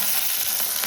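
Onions and curry leaves sizzle steadily in hot oil in a pan, a continuous close frying hiss with faint stirring and no talk.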